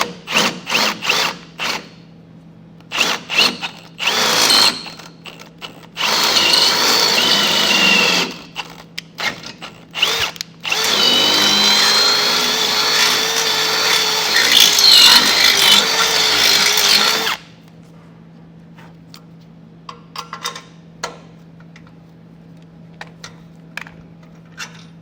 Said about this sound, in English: I'll come back here with a drill bit and enlarge it a little bit